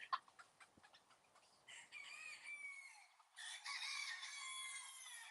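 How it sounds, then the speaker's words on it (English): Hens with their chicks, including Serama frizzle chickens, cluck and call in short bursts, followed by longer crowing-like calls, fairly faint and from some distance. "You're seeing all my chicks here, mamas, and their chicks."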